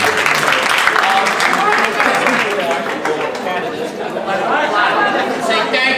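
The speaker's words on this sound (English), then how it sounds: "they would like to clap and say thank you to all of you" People at a district council forum clap to thank the participants, a steady patter of applause mixed with lively chatter and overlapping voices throughout.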